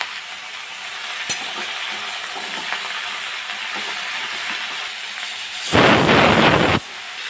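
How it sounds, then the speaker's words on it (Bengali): Bottle gourd frying in a pan with salt and turmeric, a soft steady sizzle that surges into a loud, dense burst of frying for about a second before settling back down. "হলুদ দিয়ে সুন্দর করে লাউটা ভেজে ডালে দিয়ে দেবো"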